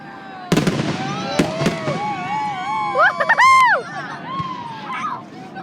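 Fireworks go off in rapid succession with sharp cracks and pops, followed by whistling and crackling bursts, close and loud, with people exclaiming in the background.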